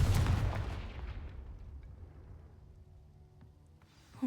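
A single Confringo spell blast in the video game Hogwarts Legacy, a sharp explosive boom at the start whose rumbling echo decays slowly into near silence, with a faint thump at the end.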